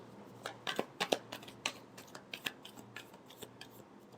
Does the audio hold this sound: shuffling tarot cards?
yes